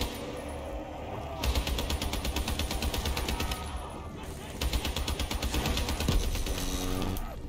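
Rapid automatic gunfire from Call of Duty: Black Ops III Zombies, sustained bursts of steady fast shots that pause briefly around the second and fourth seconds before resuming, with faint game sounds underneath.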